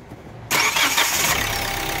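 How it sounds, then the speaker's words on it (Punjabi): Hyundai Creta engine starting on the self-starter after an engine overhaul: a quiet pause, then an abrupt close catch at the half-second mark that settles straight into a loud, steady running roar. "ਮਾਰਾਂਗੇ ਸੈਲਫ ਅਤੇ ਕਰਾਂਗੇ ਸਟਾਰਟ।"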